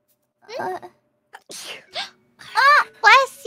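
A few sharp sneezes burst out close up, separated by short pauses, with voices reacting in between.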